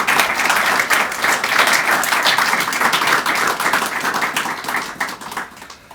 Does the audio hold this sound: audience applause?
yes